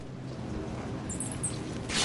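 Bats squeak in a dark, labyrinth-like space, giving a few thin, high chirps that cluster briefly over a steady low rumble.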